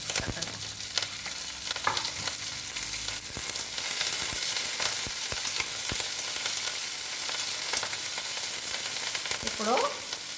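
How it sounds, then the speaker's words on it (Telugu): Green chillies crackle and sizzle in hot tempering oil, a steady close frying hiss with occasional pops and stirring scrapes, no voices. "ఇందులో పచ్చిమిర్చి కూడా వేస్తున్నానండి"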